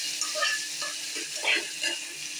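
Steady sizzling of onions frying in a pan, with occasional stirring scrapes over a continuous hiss, close by and moderately loud.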